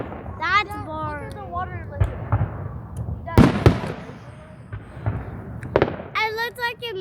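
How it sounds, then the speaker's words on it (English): Outdoor fireworks go off in several sharp bursts and crackles, some loud and near, amid chatter and excited voices talking over the show. "This is fireworks."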